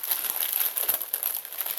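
Loud, continuous crinkling of a plastic packet being handled and torn open, with steady crackling throughout.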